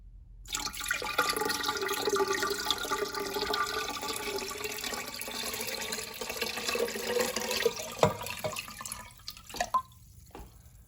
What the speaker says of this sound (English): And now I'm going to pour this water into the fish bowl.